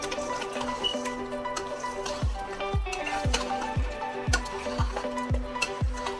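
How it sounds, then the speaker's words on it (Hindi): Lamb chops sizzling steadily in a hot pan over high flame, with a regular series of low thuds from stirring that keep an even rhythm; no talking. "थोड़ी सी हाई फ्लेम पे इसको रख के अब मैं भूनूंगी ताकि इसका पानी जो है वो जल्दी सूख जाए"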